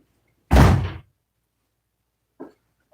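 A door is pushed shut with one loud, close thump, followed after a pause by a faint, short knock, with no talking.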